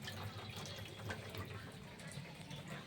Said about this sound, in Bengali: এই দেখুন পাশে কি সুন্দর জলটা নামছে